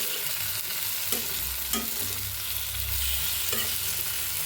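Small cut tomato pieces frying for a cauliflower bharta, a constant crackling sizzle with a few knocks of a spatula turning them, steady and fairly close.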